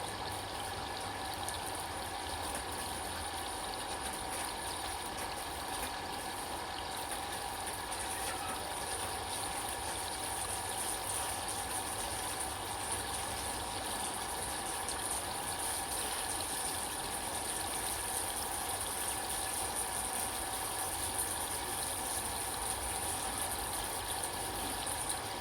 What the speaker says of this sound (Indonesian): aku mau menyiram dulu raised bednya sebelum aku tanami tanaman yang tadi